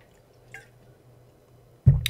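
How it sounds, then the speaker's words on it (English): A person takes a drink of water, a faint drip early on, then a short, close wet gulping splash near the end amid near silence. "sorry if you hear my water, it's just because I have to get a drink now and again"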